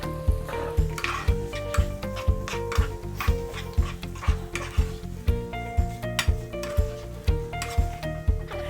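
Tofu scramble sautés in a pan, with a steady sizzle and regular scraping, stirring strokes of a utensil against the pan, while music plays softly underneath.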